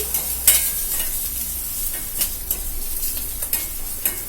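Ingredients for a bitter orange peel thuvayal dry-roasting in a pan while a spoon stirs them, giving a soft steady sizzle broken by repeated scraping clicks, close and fairly loud.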